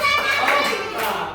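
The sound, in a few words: applause, clapping hands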